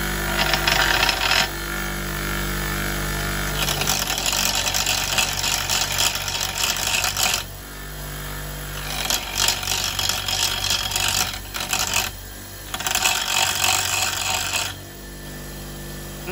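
A new, very rough sharpening stone grinding a point into shape, sustained harsh rasping in long strokes with short pauses between them, close and steady with no voices.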